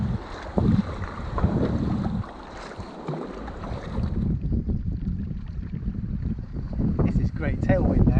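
Wind rushing across open sea while kayaking off the Gower coast, a steady broad roar of buffeting wind noise on the microphone throughout, with water movement beneath and brief voices partway through.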